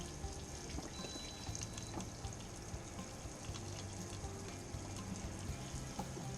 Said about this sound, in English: we've got water flowing.